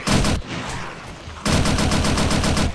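An MG4 machine gun in the video game 7 Days to Die fires in rapid automatic bursts, loud and close, with a short burst, a brief pause, then a longer sustained stream of shots.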